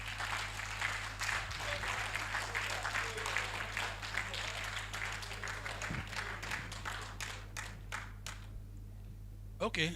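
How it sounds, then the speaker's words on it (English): Shareholders applaud the director and staff at a company's annual general meeting, a steady wash of clapping from a large room that runs the full length, fairly quiet against a constant low hum, with voices mixed in. "the esteemed shareholders please give an applaud to the director"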